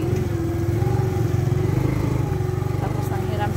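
A borrowed motorcycle runs through a village barangay, its engine a steady, close, continuous drone with a low pulsing throb that holds level throughout, with no one talking.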